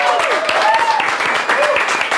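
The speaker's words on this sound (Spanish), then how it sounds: "¡Fuerte el aplauso, señores!" Studio audience applause on a Spanish-language comedy show, a steady wash of clapping with a host's voice calling out over it, fairly loud and continuous.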